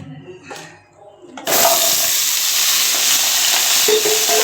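Shallots and tomatoes hitting a hot pan for a village-style country chicken curry, a quiet start then a sudden loud, sustained sizzle that continues steadily with light stirring, close up.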